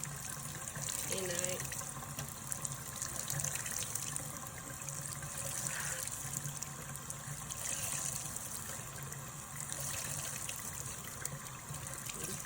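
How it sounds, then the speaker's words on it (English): Water from a tap runs onto an EcoTools makeup blending sponge as it is dampened, a steady faint splashing trickle with light handling noises. "when you dampen it, you want to get the sponge wet"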